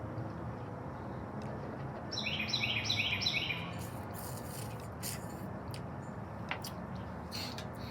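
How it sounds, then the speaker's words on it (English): Several birds chirp and tweet in a short cluster of quick calls outdoors on a deck, fairly close and clear over a steady background of outdoor noise, with other faint scattered chirps before and after. "Sorry for all the birds."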